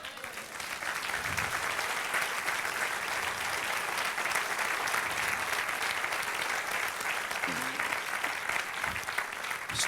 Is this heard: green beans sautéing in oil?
no